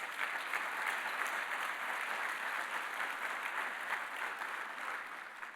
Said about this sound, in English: Please give Susan a round of applause.